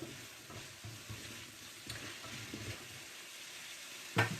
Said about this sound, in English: And I'm now going to drop in the cauliflower.